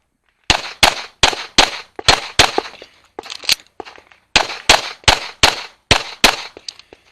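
Pistol shots fired rapidly during an IDPA match stage at the National Championship, about eighteen sharp loud cracks in quick pairs and strings with brief pauses between, close and alone.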